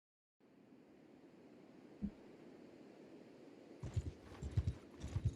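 A sumpter pack horse in the video game Bannerlord clip-clops along, its hooves landing in a quickening series of close, distinct thuds over a soft airy background hiss.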